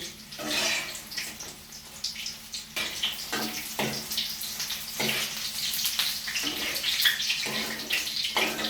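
Paneer pieces frying in hot oil for homemade chilli paneer give off a steady, close bubbling sizzle with crackling bursts that continues without pause.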